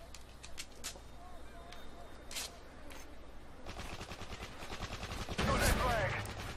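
Rapid bursts of hip-fired automatic gunfire in the video game Modern Warfare 3 during a Capture the Flag match, fairly loud and building toward the end, with players talking over it.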